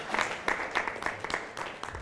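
An audience at a Kiswahili arts event at Upperhill Secondary School applauds quiz winners with fairly regular, moderately loud clapping that continues steadily throughout.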